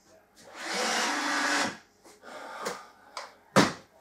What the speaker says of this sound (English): 100 screws driven in with the Apex 27 series screwdriver tip.